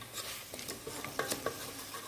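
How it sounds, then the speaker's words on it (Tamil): Chicken curry pieces sautéing in a pan with salt, stirred now and then by a spoon, giving a low sizzle under soft scraping and a few clinks, close by and with no voices. "கறி நல்லா வதங்கிக்கிட்டே இருக்குது."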